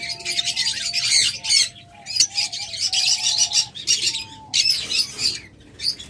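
Yellow Fischer's lovebirds and other caged pet birds at a shop chirp and squawk in busy, overlapping bursts, with a repeated whistled note running through the chatter.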